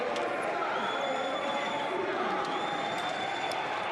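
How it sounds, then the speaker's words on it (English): A packed arena crowd roars steadily at a FIBA AfroBasket 2021 basketball game between South Sudan and Uganda, a loud, continuous wash of cheering with a commentator talking over it throughout. "And the crowd are going crazy here"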